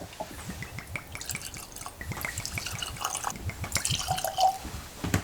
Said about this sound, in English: I'll pour extra for Dylan